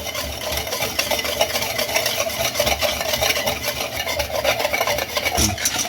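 A spoon stirring a dry mix of cocoa powder and milk powder in a pot, a continuous close rubbing and scraping sound with a steady gritty texture and no speech.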